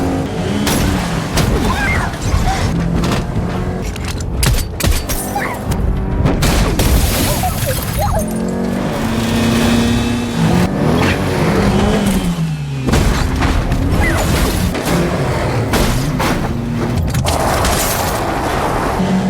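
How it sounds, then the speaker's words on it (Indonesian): A car chase from the action film Shelter, with a stolen police car pursued at speed: engines roar and rev loudly amid dense crashes, booms and heavy score, continuous for nearly twenty seconds. "Ia langsung tancap gas mengejar Mason."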